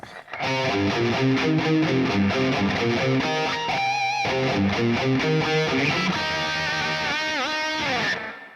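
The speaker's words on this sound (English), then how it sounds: "which is a lot of palm muting and some pinch harmonics" Distorted electric guitar plays a riff built on heavy palm muting with squealing pinch harmonics. It is loud, continuous and rhythmic for about eight seconds, with no voices.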